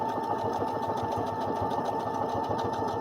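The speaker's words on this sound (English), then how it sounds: "So was that buttonholer a good demonstration, Marty?" A sewing machine fitted with a buttonholer whirs in a fast, even, continuous hum with a rapid mechanical patter, close and steady for the whole stretch.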